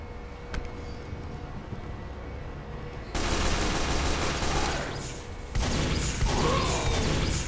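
A base cannon firing in a video game, heard as sustained bursts of rapid automatic gunfire that start abruptly, cut off briefly, then resume loud and dense with a mechanical clatter, and no talk over them.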